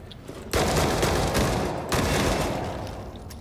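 Dense, sustained bursts of gunfire in The Forever Winter, heavy blasts with a shotgun in the mix, loud and close, rolling on without pause and with no voices over it.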